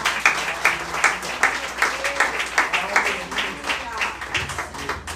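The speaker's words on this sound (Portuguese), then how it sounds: "Dê uma salva de palmas ao Senhor." Congregation in a church service clapping together, a loud, fairly rhythmic burst of applause with pulsing claps throughout and some voices mixed in underneath.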